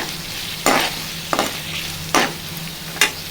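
Crushed garlic fries with onions in a pan, a soft sizzle broken by four distinct scraping strokes of a spoon spaced about a second apart, near and clear with no talking.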